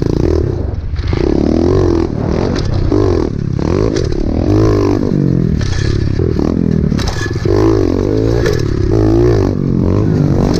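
A dirt bike engine with its exhaust come off revs hard at a motocross raceway, loud and raw with rising and falling pitch sweeps and clattering throughout.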